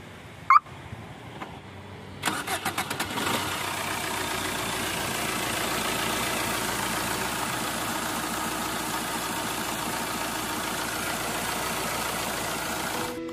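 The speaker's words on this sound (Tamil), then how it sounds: "இன்ஜின் சவுண்ட் முதற்கொண்டு எந்த அளவுக்கு தெளிவாக இருக்கு அப்படிங்கிறத பாருங்க" A Chevrolet Enjoy's engine is heard after a couple of clicks and a start-up, settling into a steady, even idle hum that continues close and unbroken to the end.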